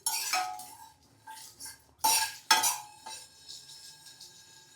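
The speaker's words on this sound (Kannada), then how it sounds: "ಊರಿನ ಸಣ್ಣಕ್ಕೆ ಇಟ್ಕೊಂಡೆ ಹಿಂಗೆ ಗುರಾಡ್ಕೊಂತ ಅದು ಘಮ ಬಿಡೋವರೆಗೂ ಹುರಿಬೇಕು" Spices being stirred and dry-roasted in a pan on a low flame, a few crisp metallic scrapes and clinks of a spoon against the pan in separate bursts, close by, with no talking.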